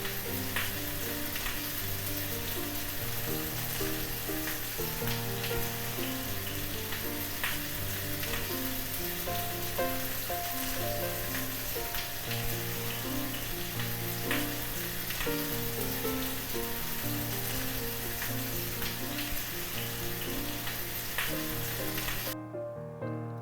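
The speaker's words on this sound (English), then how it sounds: "All I'm trying to accomplish by spooning the butter and oil mixture is to make sure I get as much of the flavor on the steak as possible" A sous vide sirloin steak sizzles steadily in a pan as a butter and oil mixture is spooned over it, a dense, close frying crackle with small spatters that runs unbroken before cutting off abruptly at the end.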